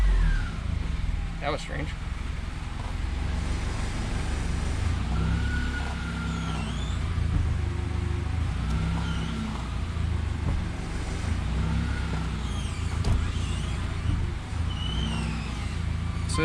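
A Scion FR-S sports car engine runs at a steady idle close by, with a low, even rumble throughout and a voice speaking briefly over it.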